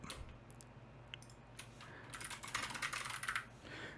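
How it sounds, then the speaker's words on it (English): Keys clatter on a computer keyboard, quiet scattered taps at first, then a faster, denser burst of typing, close and clear with no talk. "Can't even type."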